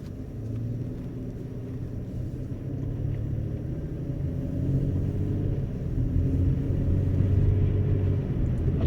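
A 2016 Chevy Colorado 4WD pickup driving on a road in rear-wheel drive, a steady low rumble of engine and tire noise inside the cab that grows slightly louder over time.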